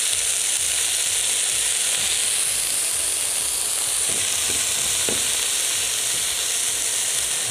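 Meat sizzling and searing in a hot frying pan after being turned, a steady loud close hiss with faint scraping, meat cooked sous-vide beforehand.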